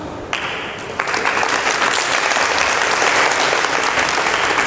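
Seminar audience applauding at a public speaking and motivational event in Bilaspur, clapping that starts abruptly and swells into loud, sustained, dense applause filling the room.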